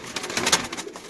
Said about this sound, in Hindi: ये सब परवाज में डले हुए कबूतर हैं।